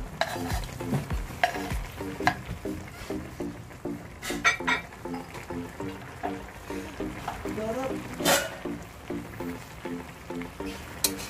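Firm tofu pieces hit a hot oiled pan for a hotdog and tofu oyster sauce stir-fry, giving a steady sizzle with repeated utensil scrapes and clinks while a voice talks over it.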